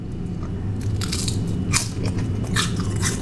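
Someone bites and chews into crunchy homemade food, giving several close, crisp crunches in quick succession over a steady low hum, with no speech.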